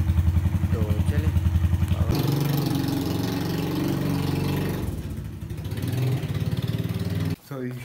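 An Infinity 150 motorcycle engine runs with a steady, throbbing idle that rises into a louder, rougher revving, then settles again, up close, with a sharp cutoff near the end.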